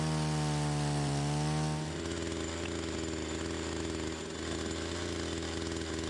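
A loud power saw whines steadily nearby while cutting into a bee nest in Paraguay, its pitch dropping as the blade bites and then holding a rough, continuous drone.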